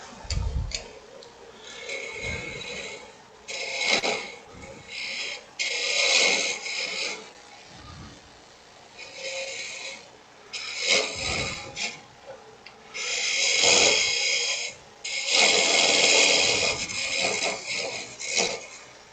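A carbide tool cuts wood spinning on a lathe while a long-stem goblet is turned, giving bursts of scraping and shaving hiss between quieter pauses, close-up with no speech.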